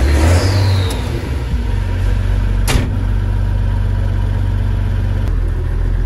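A tractor's Mercedes engine revs loudly and steadily up close, a deep continuous roar with a brief sharp click partway through and no voices.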